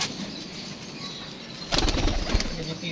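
A released pigeon bursts into flight with a sudden flurry of wingbeats, close and loud, cutting in partway through over steady outdoor background noise.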